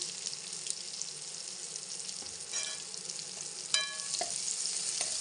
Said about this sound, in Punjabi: ਹਲਦੀ ਨੂੰ ਮਿਕਸ ਕਰ ਦਿੰਨੇ ਚੰਗੀ ਤਰ੍ਹਾਂ